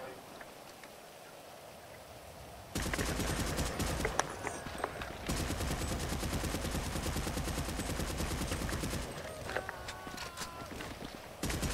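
Rapid combat rifle fire in GTA 5 Online survival mode, sustained dense bursts of automatic shots that start abruptly, break off briefly and resume, loud and close.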